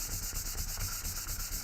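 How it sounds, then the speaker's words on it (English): A knife blade is rubbed against sandpaper in steady back-and-forth strokes, a rhythmic close-up scratching rasp with a regular pulse and no talking. "sandpaper."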